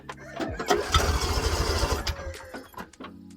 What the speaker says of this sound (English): I'm on the tractor, the yard tractor